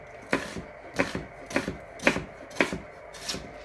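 Knife chopping onions on a cutting board for a bean-free ground-meat chili, six evenly spaced sharp chops about half a second apart, close and moderately loud with no talking.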